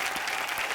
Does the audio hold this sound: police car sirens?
no